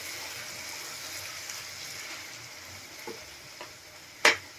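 Paneer bhurji with coriander being stirred in a pan, a soft steady sizzle with a few light spoon taps against the metal, the last one sharper and louder near the end.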